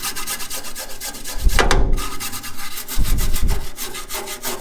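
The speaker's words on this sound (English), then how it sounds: "use a wire brush" A wire brush scrubs rusty metal on a 1978 Jeep CJ-5, loud and close, with steady back-and-forth rasping strokes and two heavier scrapes partway through.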